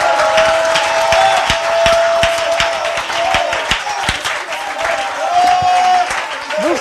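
A church congregation claps and acclaims together in a steady, dense wash of applause with voices mixed in. A tone is held through much of it.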